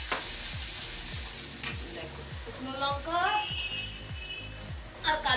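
Dry red chillies and nigella seeds sizzle in hot oil: a steady, close crackle and hiss, with regular soft scrapes of stirring running throughout.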